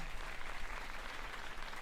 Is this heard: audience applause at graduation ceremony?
yes